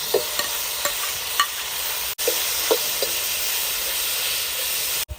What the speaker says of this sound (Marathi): आलं लसूण आता शेवटी टमाटे टाकून टमाटे पण भाजून घेणार